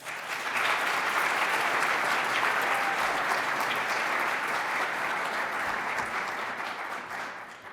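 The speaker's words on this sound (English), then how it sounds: "A big round of applause, please." Sustained applause fills a board of education meeting, a steady dense clatter of many hands clapping at once that holds loud for several seconds before tapering slightly at the end.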